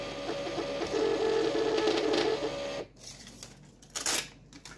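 Fiscal cash register printing a receipt up close, a buzzing, chattering print run lasting about three seconds, then stopping and leaving a few quiet clicks and handling sounds.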